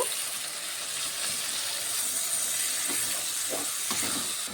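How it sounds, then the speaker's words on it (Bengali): A little water poured into a hot pan of spiced shrimp curry with tomato and banana flower sets off a loud, steady steamy hiss and sizzle that stays close and constant, with no voices. "এখন সামান্য একটু জল অ্যাড করব, অল্প করে জলটি অ্যাড করব"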